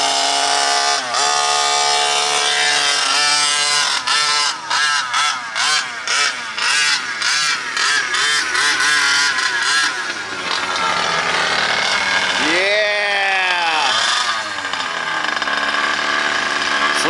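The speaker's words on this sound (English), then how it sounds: "giving that engine a chance to warm up. It's so thick and throaty and rich" A 49cc gas RC monster truck engine runs loudly and steadily with a throaty buzz, its pitch rising and falling through repeated revs, then climbing in a couple of sweeping accelerations.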